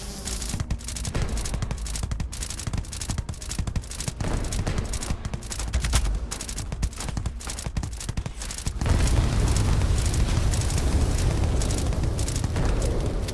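Rapid, dense gunfire from a Starfield firefight, crackling steadily for several seconds before giving way to a louder, roaring wash of explosive noise.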